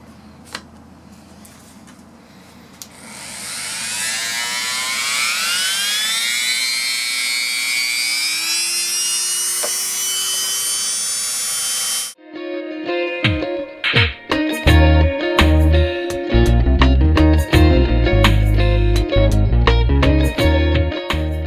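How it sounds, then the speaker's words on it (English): A power tool spins up with a rising whine and then bites into a metal pulley shaft to cut a shoulder, giving loud, rough grinding and chattering bursts, close by with no talk. "So I'm just going to cut a little shoulder out of that."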